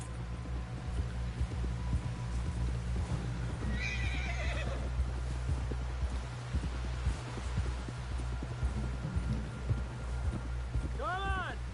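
In Red Dead Redemption 2, a horse gives two sharp whinnies, one early and one at the end, over a steady patter of hoofbeats and low ambient game noise.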